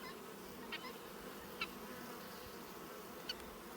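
Honey bees hum steadily in an outdoor bee yard, a dense close buzz filling the air with a few individual insects droning louder as they pass by.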